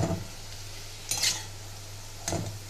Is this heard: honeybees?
no